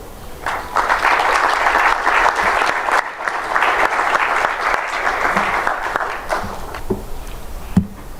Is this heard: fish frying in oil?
no